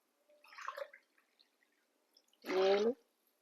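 Water poured from a glass into a pan for rava upma, a short splash then a fuller, louder gush of pouring lasting about half a second, no talk.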